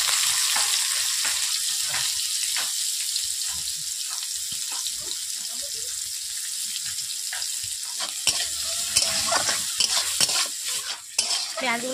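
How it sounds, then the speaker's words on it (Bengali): Chopped onions frying in oil after panch phoron spices for a pumpkin-stem, eggplant and potato curry, giving a constant close hiss with frequent stirring scrapes that grow busier toward the end. "পেঁয়াজগুলোকে আমি লালচে করে ভেজে নিচ্ছি বন্ধুরা।"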